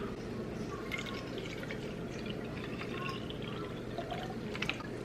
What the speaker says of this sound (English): I'm just gonna pour a water bottle into here.